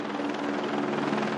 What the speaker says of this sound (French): Ils ont bénéficié de l'aide précieuse de l'hélicoptère bombardier d'eau.